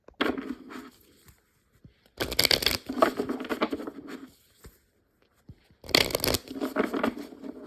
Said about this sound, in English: Just shuffle while thinking that question and pick a card.